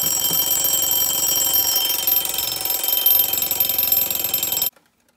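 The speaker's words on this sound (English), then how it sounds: "the alarm is less spectacular on this" A Westclox mechanical alarm clock rings in a loud, continuous metallic buzz for several seconds, then cuts off abruptly into silence.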